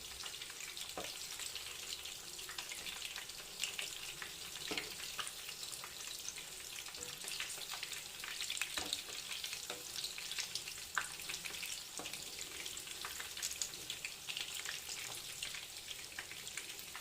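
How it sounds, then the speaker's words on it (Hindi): Chicken lollipops fry in oil over a medium flame, a steady faint hiss with scattered small pops and crackles throughout, no voices. "5 मिनट्स तक मीडियम फ्लेम पे रख के फ्राई करेंगे"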